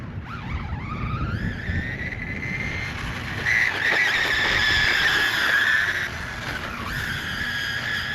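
An MJX Hyper Go Ford Mustang Shelby GT500 RC car drifts on a street, its motor whining in rising and falling pitch as the tires squeal in a long, loud skid, close by.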